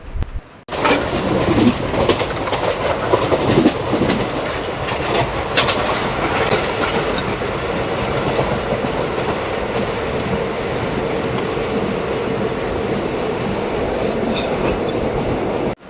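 Narasapur Express pulling out of Nalgonda station at night, a loud steady rumble of rolling wheels and carriage noise with rhythmic clatter throughout, no talking.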